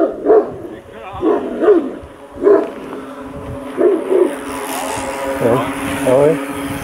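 A dog barks several times in short, spaced bursts at moderate distance, with a person talking and some outdoor noise around it, in the Šumava region.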